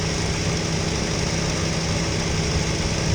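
The 2.4L engine of a Chevy HHR runs at a steady idle after an oil pan install, warmed up with the cooling fan on. It is a constant, even hum and drone, close and uninterrupted.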